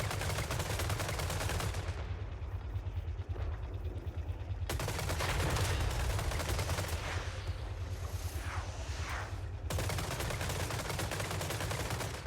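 Troops in Total War Warhammer III firing gunpowder weapons, dense crackling volleys and rolling gunfire with heavy low booms, continuous and loud, cutting in and out in sections.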